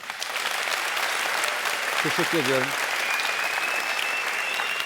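Studio audience applause for a Turkish band on the Beyaz Show TV program, a loud, steady wash of clapping that fills the whole clip while someone briefly speaks over it.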